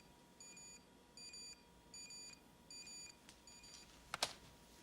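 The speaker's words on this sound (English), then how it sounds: "What a notification." A notification alert beeps in four evenly spaced, repeated electronic tone bursts, followed by a fifth shorter one and then a few sharp clicks, all fairly quiet and without talk.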